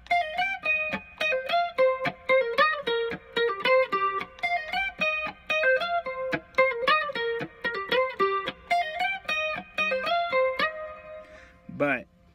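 A fast, rolling electric lead guitar riff is played as quick repeated picked notes, close and steady, ending in a short pitch bend, with no talking.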